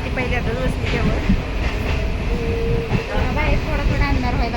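A passenger train running on rails, with a steady, loud rumble and rhythmic clickety-clack of the wheels, heard from inside a carriage amid faint background voices.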